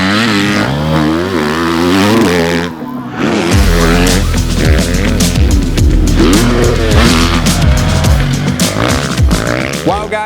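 A 2024 Triumph TF250-X motocross bike ridden on the Gatorback track in Florida, its engine roaring loud and close with repeated revving rises and gear shifts, a brief dip near the three-second mark.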